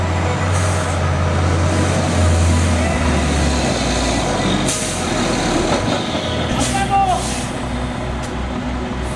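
A concrete truck maneuvers on a slab-pouring job site, its loud engine roaring steadily with low rumbling throughout, a shift in tone near the end, and occasional hissing bursts.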